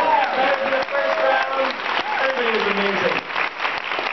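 An audience at a literary deathmatch reading event applauds steadily, with clapping throughout and cheering voices rising above it.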